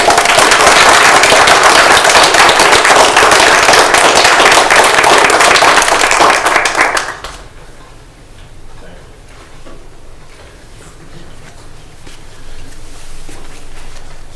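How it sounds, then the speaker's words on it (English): An audience applauds Sarah at a Lake County, Ohio commissioners meeting, a loud, dense burst of clapping that stops suddenly about halfway through, leaving a quiet room murmur. "Round of applause for Sarah."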